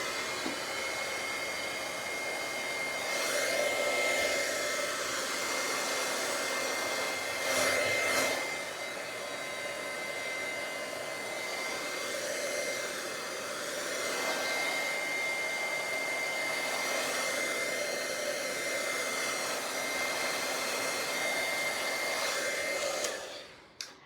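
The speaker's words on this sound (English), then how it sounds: "And then I'm going to use my heat gun again." A heat gun blows on alcohol inks with a steady, loud whooshing roar that swells and dips slightly as it moves, running for over twenty seconds with no talking.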